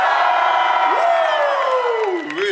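A rock festival crowd at Jurassic Rock in Mikkeli roars and whoops together, a loud, dense mass of voices with rising yells that swell and hold for a couple of seconds.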